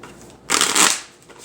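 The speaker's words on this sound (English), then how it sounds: "Now, I've got my Coca-Cola cards, and I'm gonna shuffle them." A deck of Coca-Cola playing cards is shuffled in one quick riffle, a crisp fluttering burst up close that rises and fades within a second, with quiet room tone around it.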